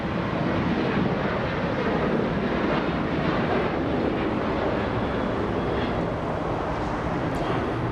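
An airliner coming in to land at LAX, approaching fast, makes a steady, loud, broad engine roar that holds without a break.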